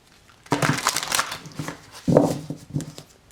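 Cards riffle and flap together in a few quick bursts close up, with short pauses between shuffles.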